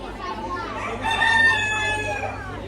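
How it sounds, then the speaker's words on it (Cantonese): Roosters crow with a bright, drawn-out call rising over the steady murmur of a farm show in Auckland, New Zealand, where small-breed chickens and young cockerels are on display; faint voices and the clucking of other fowl carry in the background. "呢啲細種雞好鬼得意"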